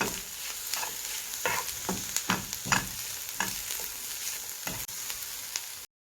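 Onions caramelizing in a frying pan, a constant bright sizzle broken by repeated scraping stirs of a utensil, close up with no voices, cutting off abruptly at the end.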